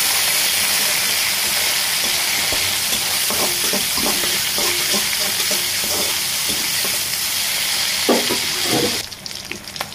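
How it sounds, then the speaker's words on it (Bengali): Shrimp frying in a pan, a continuous close sizzle with scattered stirring clicks and scrapes, quieting briefly in the last second. "এর ভেতর আমি এখন দিয়ে দেব চিংড়ি মাছ। এটাকে ভালোভাবে ভেজে নিতে হবে"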